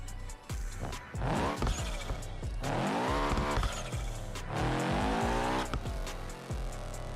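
A car in the BeamNG driving game revs with a rough, harsh engine note, rising and falling in long sweeps while the tires squeal; loud and continuous throughout, with no voices.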